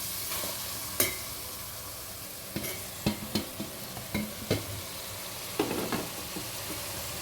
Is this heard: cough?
no